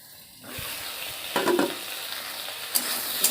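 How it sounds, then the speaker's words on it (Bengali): Flat beans frying on their own in a pan with onion and garlic, a hiss and sizzle that starts half a second in and carries on steadily, with scraping stir sounds and small clinks, no talking. "সেই জন্য সিম আলাদা করে ভেজে নিচ্ছি।"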